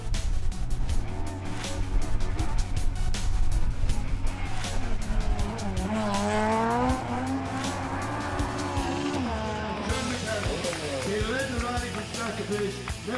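Ford Escort rally car competing at the Rally of the Lakes, its engine roaring loud and continuous with revving swells and shifting pitch throughout, under a busy mix of other sound.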